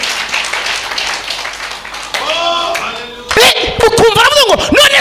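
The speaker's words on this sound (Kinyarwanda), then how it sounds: "Dukomere Imana amashyi." A church congregation bursts into loud applause and clapping that builds, then gives way to a preacher's voice ringing out over the room.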